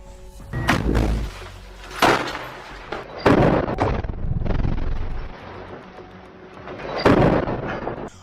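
Rocket fire at a tank during combat between Hamas fighters and an IDF tank on a street, heard as several loud booming blasts and bursts spaced over several seconds, with rumbling gunfire between them.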